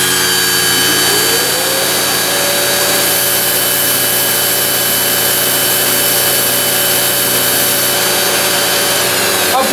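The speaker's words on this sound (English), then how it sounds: "I'll turn the sander on and you'll see what happens." An electric sander runs steadily on a small piece of wood held down by an air cup clamp, a loud continuous whine with tonal harmonics and grinding texture that never lets up.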